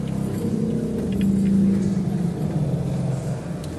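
Lowest pipes of the Salisbury Cathedral organ sound a deep, sustained rumbling bass that swells in the middle and holds steady, filling the resonant cathedral space with no voices.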